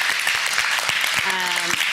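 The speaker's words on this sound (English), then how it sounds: "Give him a huge round of applause." Audience applause closes a lecture on precision medicine, targeted therapy and immunotherapy. It is a brief wash of steady clapping heard under a voice that speaks over it, with a short tonal sound near the end.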